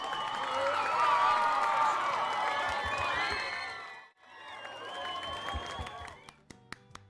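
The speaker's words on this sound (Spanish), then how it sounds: "con un grandísimo aplauso" Applause at the close of a Spanish-language science talk show, a crowd clapping and cheering with chattering voices mixed in, briefly dropping away before resuming and ending in a few scattered claps.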